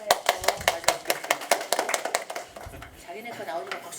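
An audience claps in quick rhythmic bursts at a public talk by the mayor of Jeonju, the sharp claps loud at first, then thinning and fading as a voice is heard underneath.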